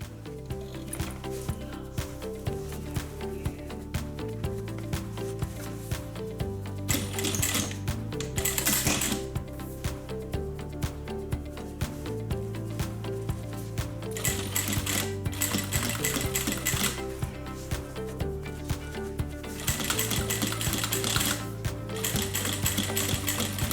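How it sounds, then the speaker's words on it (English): A sewing machine stitches straight along the seam of a zip-around long wallet, running in steady rapid bursts with short pauses between runs, close and clear with no talking. "just line it up and then sew straight on through, and we'll do that on both sides"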